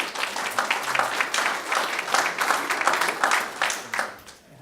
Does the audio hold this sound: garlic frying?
no